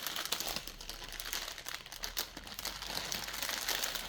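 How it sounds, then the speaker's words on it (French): Continuous crinkling and rustling of paper, close and fairly loud, with dense irregular crackles and no talking. "Excusez-moi vraiment du bruit du papier."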